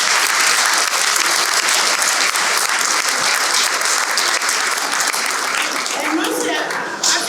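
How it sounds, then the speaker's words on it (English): An audience applauds at the opening of the Smokies stadium, a dense, steady wash of many hands clapping that continues throughout at close, even loudness before easing slightly at the end. "We can clap for that."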